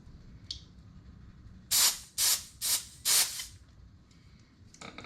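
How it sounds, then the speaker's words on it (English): Four short, loud bursts of compressed air blow from an air hose on an FXR motorcycle being upgraded to mid controls, each a sharp hiss separated by brief pauses, with no talking. "if you take your air hose and you put it here"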